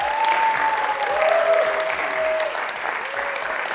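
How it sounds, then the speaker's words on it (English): An audience at a university debate event in Kenya applauds the debaters, a steady wash of many hands clapping throughout, with a faint whistle-like tone and murmuring voices in the background. "Give a round of applause from Team USIU, our host institution for today."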